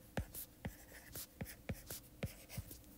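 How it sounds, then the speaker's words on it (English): Pen writing by hand on paper for a math lesson: a steady series of short scratchy strokes with small pauses between them, close and fairly quiet, with no talking. "So I'm going to write them down next to each other."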